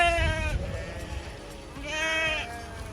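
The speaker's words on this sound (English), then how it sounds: "Look at the sheep." Sheep bleating on a hillside campsite, two drawn-out, wavering calls, one at the start and another about two seconds later, fairly close and clear over a low outdoor rumble.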